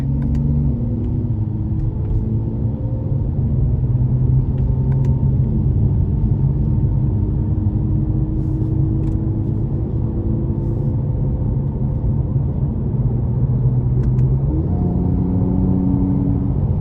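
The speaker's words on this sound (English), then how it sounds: "just put it in Sport Plus mode and open that exhaust up" A steady, deep engine rumble from a 2018 Mercedes-Benz C43 AMG Coupe with exhaust open in Sport Plus mode, the pitch shifting up and down as the car drives, no voices.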